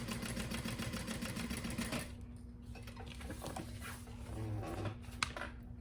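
A sewing machine runs steadily for about two seconds while stitching a square crossbody bag, then stops; soft handling noises and faint clicks follow, with no voices.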